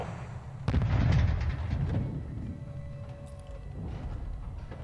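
Mortar and artillery explosions in Call of Duty Modern Warfare 2: a sharp heavy blast with rumbling tail, followed by fainter distant booms and battlefield rumble, no talking.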